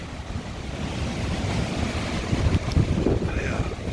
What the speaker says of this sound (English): We've been getting some wicked gusts of wind.